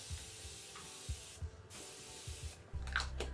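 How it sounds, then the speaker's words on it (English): A Tirtir Glossy Coating Mist setting spray is misted onto the face in a few short, soft hissing bursts, close and fairly quiet. "It's like a setting, moisturizing glow spray"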